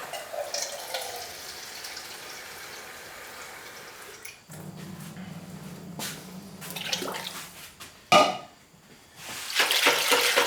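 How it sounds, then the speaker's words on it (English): Water trickles and splashes as a small amount is added to a bucket of raw glaze, a steady wet pour with a brief louder slosh near the end, no voices. "I've got a feeling I'm going to just add a wee bit of water to that."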